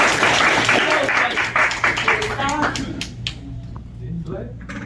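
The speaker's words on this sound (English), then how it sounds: "Clap it up" Audience at a community membership mixer applauding, a dense burst of clapping that fades out over a few seconds, with voices in the room underneath.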